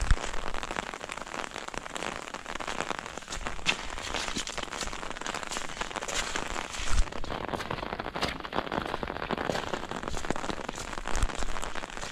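Steady, heavy rain pattering densely on surfaces nearby at Old George Dam, a continuous hiss of drops with no voices, holding constant throughout.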